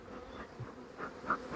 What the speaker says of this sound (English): Oh, these bees are really not happy,